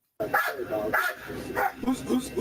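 A dog let out of a car during a police stop barks in short, sharp bursts, close by and fairly loud, with a few yips between the barks.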